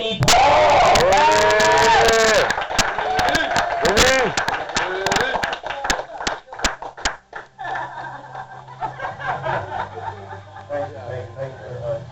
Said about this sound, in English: So let's have a big round of applause for Vinnie Paul!